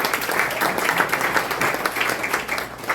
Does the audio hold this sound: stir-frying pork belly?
no